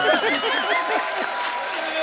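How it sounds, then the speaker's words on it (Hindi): Audience applause on a comedy show stage, steady clapping filling the moment with voices speaking over it. "हर सीन में ऐसा ताली बजाना पड़ता है यार"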